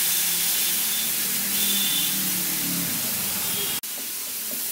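Spice paste for a vegetarian pea ghugni sizzles in a pan after a splash of water, a loud steady hiss that fades slightly before a sharp click near the end.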